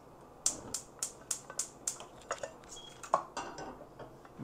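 Metal cookware clinking and tapping in a home kitchen while a mutton curry is being prepared, with a quick run of six sharp light knocks followed by a few scattered clatters, close by and moderately quiet.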